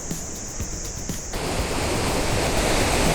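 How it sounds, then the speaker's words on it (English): A mountain waterfall and river on the Kheerganga trek rush as a steady, broadband roar that swells louder partway through and stays close and continuous, with no voices. "This is the waterfall. Let me just show you that."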